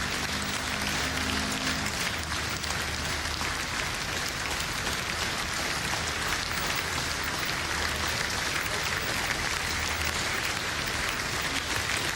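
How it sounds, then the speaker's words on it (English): Crowd applause during a funeral procession in Holland, a dense, even roar of many people clapping outdoors, continuous and unbroken, with a faint low hum in the opening seconds. "Impressive applause resounded during his last journey in Holland."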